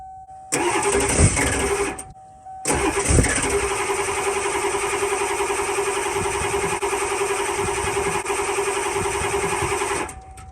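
A 1994 Ford F-350 crew cab with a 7.3 diesel, likely flooded, cranks in a short loud burst, pauses, then cranks again with a long steady droning whir before cutting out.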